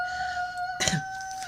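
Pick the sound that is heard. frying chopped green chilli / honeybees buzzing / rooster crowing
rooster crowing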